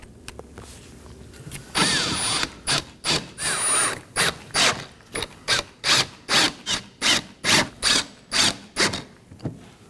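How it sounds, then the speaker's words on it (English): A T15 Torx driver snugging down five screws on the upper active grille shutter of a Chevrolet Equinox, heard as a steady series of short, rhythmic ratcheting clicks and rubs, close and alone. "Now I'm going to go ahead and snug down my 5 T15 Torx screws."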